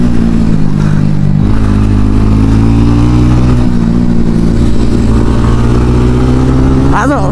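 A TVS Ronin 225 motorcycle drones loud and close while riding, its engine note holding steady with slight rises as the throttle opens, and wind rushing over it.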